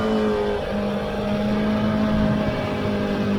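Race car engine running at high revs with a steady, loud drone and harmonic whine, holding a continuous pitch with a slight shift as the driver grabs third gear heading into a corner, no talk over it.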